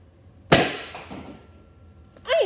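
A foam-dart Nerf gun fires once with a sharp, close pop and a short thwack, followed by a quiet pause and then a brief faint rustle.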